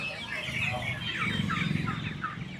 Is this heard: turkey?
yes